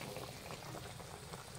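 Pork chop adobo with chili simmers in a pot in a steady, dense bubbling boil, close and continuous with no talking.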